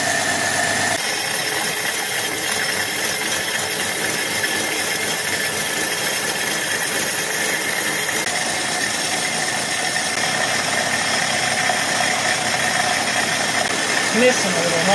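Dodge Dart engine held at about half throttle with no coolant in it, a loud steady droning roar with a slight miss, continuous throughout, with voices talking over it.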